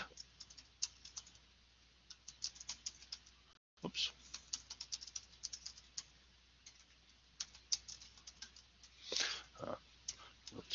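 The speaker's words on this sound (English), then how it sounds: "screwing up my typing here today" Fast typing on a computer keyboard, a steady run of light clicks and keystrokes that stops briefly, then resumes with a few louder thumps near the end.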